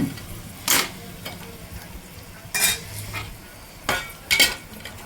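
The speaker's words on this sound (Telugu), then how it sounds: "ఇదిగోండి పప్పు తాలింపు వేసేస్తున్నాను" Hot tempering with tender curry leaves poured into mixer-blended dal for a dried-mango-piece pappu charu, heard as four short, sharp bursts of sizzle and clatter spread over a few seconds, close and moderately loud against a low, quiet kitchen background.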